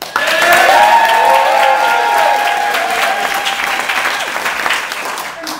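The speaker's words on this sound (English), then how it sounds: "Can you hear this applause?" Applause and cheering from a live audience at a candidate Jeopardy-style game event, loud and sustained throughout, with some tonal voices or music lines running underneath.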